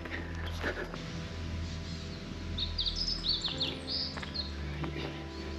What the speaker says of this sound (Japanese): まあ野鳥の声は綺麗にね響いてるんですけども